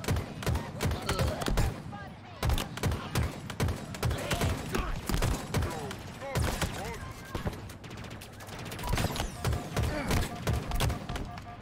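Rapid bursts of DMR rifle fire in a Halo Infinite firefight match, sharp repeated cracks with booms and thuds, while players talk over the shooting throughout.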